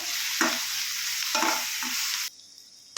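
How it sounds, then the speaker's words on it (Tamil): Onions sautéed with a little salt in a pan sizzle steadily while a spoon scrapes and stirs in a few rhythmic strokes, then the sizzle drops away near the end. "இதை நல்லா வதக்கிடலாம்"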